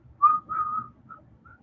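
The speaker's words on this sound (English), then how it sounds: "Whistle while you work." A person whistles a few short, clear notes while machine-appliquéing a denim art quilt; a bright phrase of two longer tones is followed by two quieter, brief ones, close and alone without talk.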